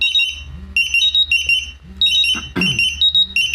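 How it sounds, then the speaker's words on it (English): Two gas detectors, a MultiRAE and a Dräger X-am 8000, sound their alarms together, with loud, fast, repeating high-pitched electronic beeps and warbling tones overlapping in steady pulses, close to the microphone, plus a brief handling noise. "I'm going to acknowledge this alarm."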